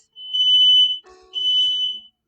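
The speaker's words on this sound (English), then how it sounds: "my fire alarm is going off" A household fire alarm sounds two loud, shrill electronic beeps in close succession, the first held about a second and the second nearly as long, with a brief lower-pitched chirp between them.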